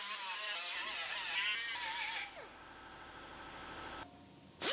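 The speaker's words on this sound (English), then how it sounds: "now we'll grind the paint off of our bottom ones, both sides" A power grinder strips paint from the lower body panels of a 2017 GMC Terrain Denali during a B-pillar replacement. A steady high whine runs for about two seconds, then drops to a quieter buzz and ends in a short final burst.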